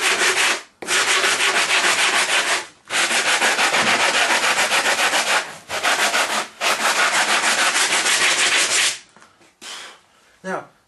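Coarse abrasive sanding a StealthWing build part, loud, close rhythmic rubbing strokes in long runs broken by brief pauses, tailing off into scattered scrapes near the end.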